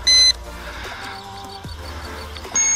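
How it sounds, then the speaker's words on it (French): FLYTEC H825 FPV drone beeping after its radio controller is switched off, two short, loud electronic beeps near the start and end with a faint hum between them. "Qu'est-ce qui se passe quand je coupe la radio? Le drone bip, là aussi."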